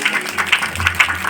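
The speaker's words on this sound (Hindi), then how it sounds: "जोर से ताली बजाइए" A crowd at a devotional musical katha in Vrindavan claps in loose, repeated bursts, moderately loud and fairly close, with no clear speech over it.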